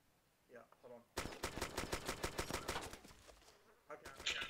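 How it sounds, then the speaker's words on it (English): A rapid burst of automatic gunfire in DayZ on ARMA 2, a dozen or more close, evenly spaced shots lasting about three seconds, preceded by a brief voice. "I'm gonna shoot this motherfucker right now."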